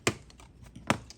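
Scissors snipping a playing card, two sharp, close cuts spaced under a second apart over a quiet background.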